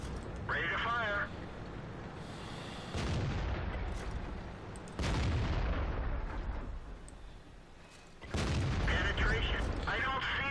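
A Jagdpanzer IV tank destroyer fires its cannon in World of Tanks on the Fisherman's Bay map, several loud booming shots spaced apart against the rumble of battle, with a voice speaking between them.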